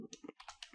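Quick burst of computer keyboard typing as a command is entered, a handful of soft close key taps in under a second.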